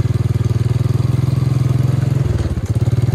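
A motorcycle engine putters along a path beside rice fields, a loud, close, steady rhythmic chug that falters briefly near the end before resuming its pulse.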